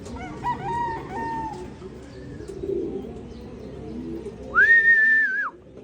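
Racing pigeons arriving back at the loft after a race, with bird calls and a steady outdoor background, and a louder drawn-out call near the end.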